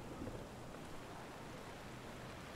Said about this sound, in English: That is pretty intense rain.